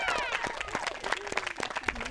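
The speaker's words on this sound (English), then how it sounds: "can I get a cheer for the wonderful couple" Wedding guests at an outdoor ceremony cheer and clap for the couple, a scattered burst of claps and whoops with overlapping voices, moderately distant and fairly quiet.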